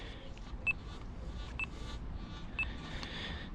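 Nokta Simplex metal detector giving three short, evenly spaced electronic beeps during ground balancing outdoors, clear over a steady low background hiss.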